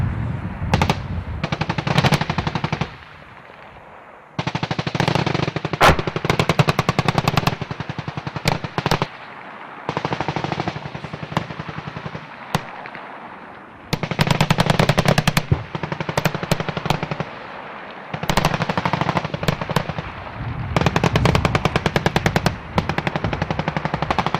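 Machine guns fire long, rapid bursts during a US Marines infantry exercise, loud and sustained with brief pauses between volleys and occasional heavier booms mixed in.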